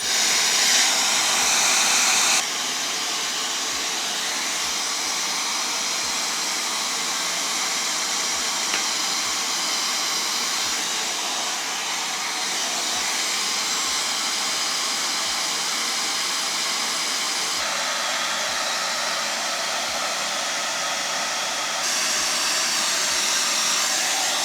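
A Dyson Supersonic hair dryer blowing cold air runs as a steady, loud, broadband whoosh throughout, with slight shifts in tone as the airflow or setting changes and faint soft ticks underneath.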